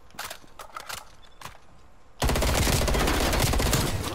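Rapid automatic fire from a MAC submachine gun in a video game: a dense, loud, continuous burst of shots that starts abruptly after a couple of seconds of scattered clicks and lighter taps.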